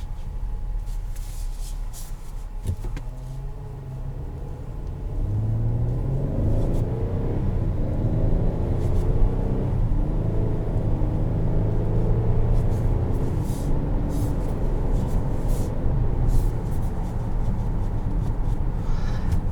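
A 2020 Kia Telluride SUV with an eight-speed automatic in manual mode drives along, its engine and road noise a steady low rumble that swells after a few seconds and holds, heard from inside the cabin with no talking.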